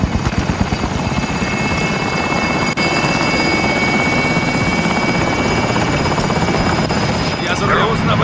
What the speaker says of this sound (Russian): Вертолет покидает район.